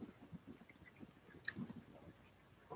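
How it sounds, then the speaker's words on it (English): Someone chews gum close to the microphone, producing quiet, irregular wet clicks and squishes with one sharper snap midway. "That's why he's chewing."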